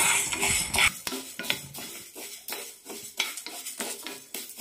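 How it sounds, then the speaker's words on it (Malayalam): A spoon scrapes and stirs dry urad dal with cardamom as it roasts in a pan over low flame, repeated sharp metallic scrapes and rattling grains at close range. "ലോ ഫ്ലെയിമിലിട്ടിട്ട് വേണം വറുത്തെടുക്കാൻ."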